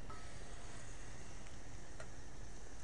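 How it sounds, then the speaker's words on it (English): Achiote oil strained into a frying pan sizzles with a soft, steady hiss that runs unbroken, with no voices over it. "I'm going to go ahead and strain this right into my frying pan."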